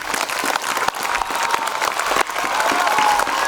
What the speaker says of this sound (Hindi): Give it a standing ovation to Mr. Tariq Azam Saheb